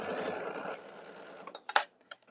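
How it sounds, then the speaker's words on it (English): Home sewing machine stitching a quilt block seam, a steady mechanical whir that fades, followed by a few close clicks and taps as the stitching stops. "I'm going to sew, I want my needle to run straight through that intersection"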